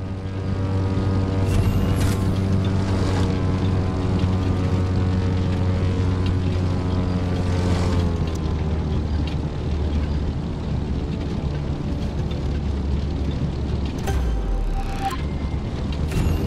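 A plane in the racing game The Crew 2 performs an air drift: a loud, steady engine drone with strong harmonics that shifts pitch midway and dips near the end.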